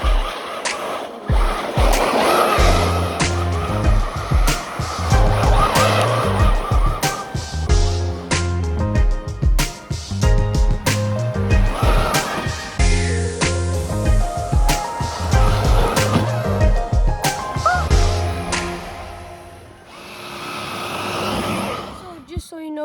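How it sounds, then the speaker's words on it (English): Arma Senton 3S RC car driving on snow, its electric motor whining in loud, revving bursts that rise and fall steadily, with talk over much of it. "Now we're gonna drive with the Arma Senton 3S."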